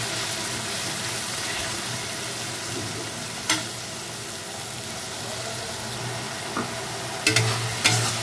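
Ginger, garlic, onion and chili paste sautés in a pan, a steady close sizzle running throughout with a few sharp scraping clicks of stirring near the end.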